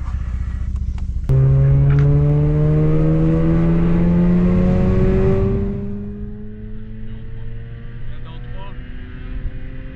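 Mazda RX-8 with a stage 2 modified rotary engine revving hard while driving, a loud rising whine climbing through the revs before easing off to a lower cruising drone, heard from inside the car.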